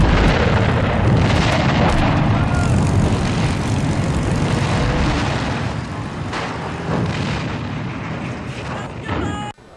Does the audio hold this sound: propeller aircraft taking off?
yes